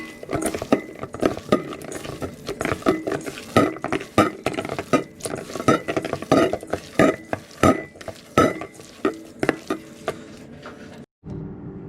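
Seasoned food with garlic and Cajun seasoning is mixed in a bowl for a family barbecue, producing close, repeated wet squelching and stirring strokes in an uneven rhythm, with no voice over it.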